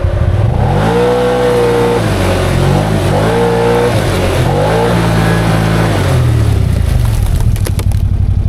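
Can-Am Outlander XMR 850 G3 ATV on 30-inch Aztex XX tires revving hard while stuck in mud, engine repeatedly surging up and dropping in loud, close rises over a continuous drone.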